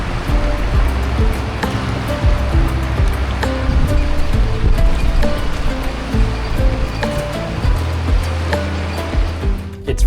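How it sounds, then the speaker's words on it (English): The Ocoee River rapids in Cleveland, Tennessee, running at a mild level, a steady close rush of churning water with no letup. "So as of right now, the rapids are not very intense, but they can be made to be extremely intense."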